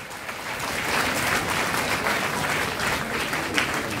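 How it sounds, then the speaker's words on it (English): Steady applause from an audience at a university medical lecture in Lagos, clapping continuously at an even level for several seconds. "A round of applause for him."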